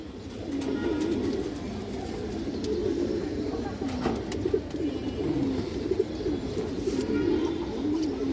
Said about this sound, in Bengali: এই যে দেখেন পুরান জাতের কবুতর এগুলো